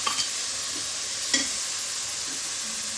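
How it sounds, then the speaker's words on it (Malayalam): Crushed garlic and ginger stirred into hot onions and tomatoes frying for a mutton dish, giving a steady soft sizzle with a few brief spoon scrapes, close and fairly quiet, no voices. "നമ്മൾ ചതച്ച് വെച്ചിട്ടുള്ള വെളുത്തുള്ളി, ഇഞ്ചി അത് നമ്മളിതിലേക്ക് ചേർത്ത് വെച്ചിട്ടുണ്ട്."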